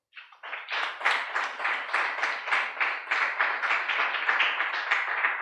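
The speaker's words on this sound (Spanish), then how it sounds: "Dale un aplauso al Señor" A church congregation bursts into applause, the clapping starting sparse then swelling quickly into a dense, rhythmic ovation with pulsing surges that carries on steadily to the end.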